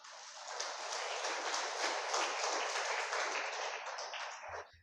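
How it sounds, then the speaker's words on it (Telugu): Sustained, dense audience applause fills a sermon hall, loud and steady for nearly five seconds before tapering off at the end. "ఒకసారి గట్టిగా చప్పట్లు కొట్టండి"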